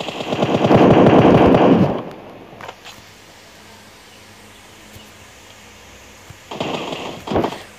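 Automatic weapon fire from the PUBG Mobile video game on the Sanhok map: a loud sustained burst of rapid shots, then a lull of faint background, then two shorter bursts near the end, with no talking.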